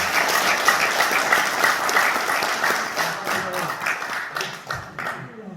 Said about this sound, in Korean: 오늘 명강의를 해주신 김기선 총장님께 다시 한번 뜨거운 박수 부탁드립니다